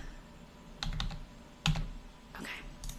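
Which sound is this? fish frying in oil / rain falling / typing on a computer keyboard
typing on a computer keyboard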